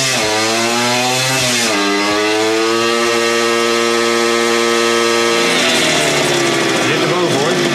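A kick-started motorcycle engine on a dynamometer revs hard and loud, its pitch climbing and dropping through sustained rasping roars, close and continuous.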